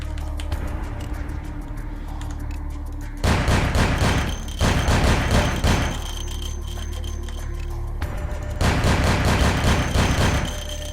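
Bursts of video game gunfire in Vampire: The Masquerade – Bloodlines come in several loud rapid volleys of shots, separated by short pauses over a steady background hum.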